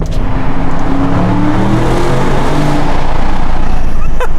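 A 2021 Audi RS6 Avant accelerating hard after a downshift, its engine a loud rising roar heard from inside the car and building steadily.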